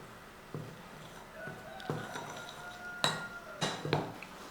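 A utensil mixing ground batter for unni bonda in a kitchen bowl, giving sparse light clinks and scrapes against the vessel, quiet and close, with several sharper taps.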